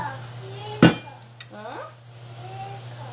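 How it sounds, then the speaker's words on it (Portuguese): An aluminum cooking pan with a medium-thick base is handled in a home kitchen during confectionery making, giving one sharp bright clink and a fainter tap a moment later, while someone talks throughout. "eu trabalho com essa panela de alumínio aqui, tá?"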